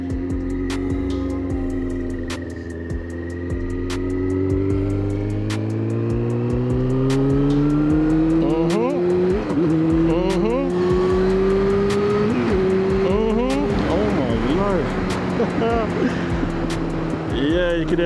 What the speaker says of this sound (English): Yeah, you can hear that popping.